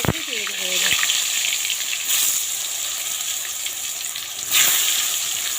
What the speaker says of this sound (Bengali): এখন আমি এর মধ্যে এক এক করে বেগুনগুলো ছেড়ে দেব